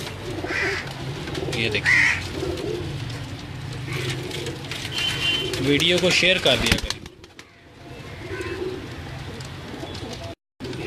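Salara Teddy pigeons coo in soft, rolling bursts close by, mixed with other bird calls, while someone talks over them; the sound drops out briefly near the end.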